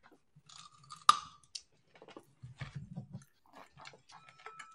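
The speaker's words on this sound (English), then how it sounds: "Just awkwardly eating carrots. Crunch, crunch." Someone eating raw carrots, making a few crisp crunching bites followed by softer chewing at close range in an otherwise quiet room.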